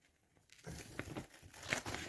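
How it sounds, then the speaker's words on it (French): Brief close-up crinkling and tearing of a paper template as it is cut for laying laminate flooring around a toilet, a few soft crisp snips after a quiet start. "Alors, je découpe mon patron."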